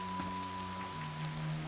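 Rain falls in the video game Horizon Zero Dawn as a steady, even patter filling the short stretch, with a low tonal game hum underneath and no voices.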